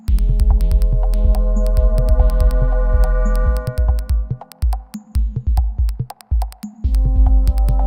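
Microtonal synth notes in Ableton, bent with MPE, sound in a loud, buzzy, slightly out-of-tune sequence of sustained tones and pulsing chords, growing choppier and more staccato midway, with no talk.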